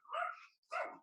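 Two loud, close dog barks in quick succession, each about half a second long with a brief gap between, heard alone in a home during an interview.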